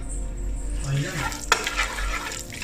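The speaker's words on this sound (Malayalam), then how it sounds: "കുറച്ച് കറുകപ്പട്ട, ഗ്രാമ്പു, പിന്നെ അണ്ടിപ്പരിപ്പ് ഇതിട്ട് കഴിഞ്ഞിട്ട് ഒന്ന് നല്ല അടിപൊളിയായിട്ട് ഒന്ന് വഴറ്റിയെടുക്കുകയാണ്." Cashews, cinnamon and cloves being sautéed in a pan while cooking ghee rice, giving a steady close sizzle with a spoon stirring and scraping and one sharper clink partway through.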